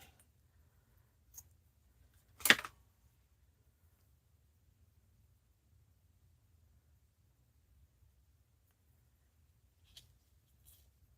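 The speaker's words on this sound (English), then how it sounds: "Let me cut off a piece of it and see" A single brief cut into craft ribbon, a short crisp snip standing alone in a quiet room, with a couple of faint clicks before and after.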